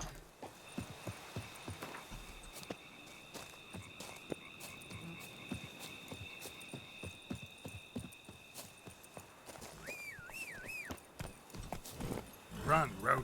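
Roach, Geralt's horse in the video game Witcher 3, galloping: a fast, steady run of hoofbeats that carries through, with a brief warbling tonal call near the end.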